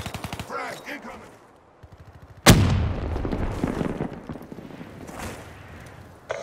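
A frag grenade explodes in Call of Duty: Black Ops III multiplayer: a sudden loud blast with a rumbling tail breaks in after rapid gunfire, while other game sounds and shots continue around it.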